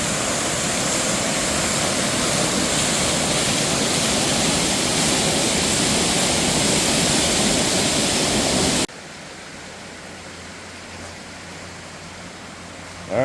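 Little Bradley Falls roars in a steady, loud broadband rush after days of heavy rain for most of the clip, then cuts abruptly to a much quieter background.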